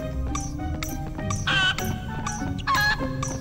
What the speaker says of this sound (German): Jetzt bleib stehen. Blöder Gockel.